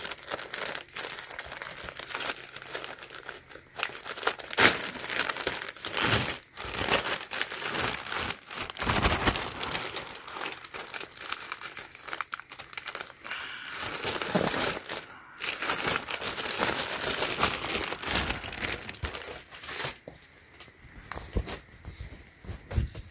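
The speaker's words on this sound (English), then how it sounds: "So let's go ahead and unwrap this." Packaging of natural oil absorbing sheets and a tee shirt is unwrapped up close, with continuous loud crinkling and crumpling of plastic, occasional tearing, and brief quieter gaps, with no talking.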